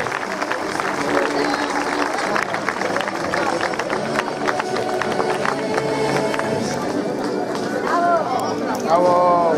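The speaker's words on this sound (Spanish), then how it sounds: "Un fuerte aplauso para la señorita Yaisa González Rodríguez." Audience at a fashion show of 1970s-style outfits applauds a model on the runway, sustained clapping and crowd hubbub with voices talking and cheering over it.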